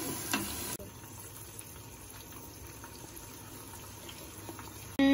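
Onions fry for chicken korma in a pan still coated with browned residue, giving a steady, fairly faint sizzle and crackle throughout, with a brief clatter near the start and no talking.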